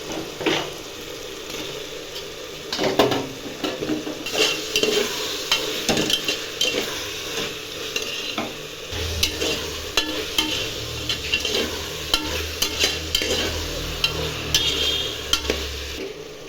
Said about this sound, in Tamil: இப்போ இந்த ஸ்டேஜில் காளான் சேர்த்துக்கலாம்